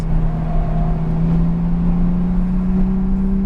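A race car's engine drones steadily and loudly up close as it follows a lead car into the pits at a racing driving experience, with a constant low hum and no pauses.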